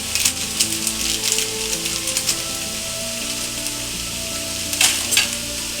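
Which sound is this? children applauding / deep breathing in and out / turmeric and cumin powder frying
turmeric and cumin powder frying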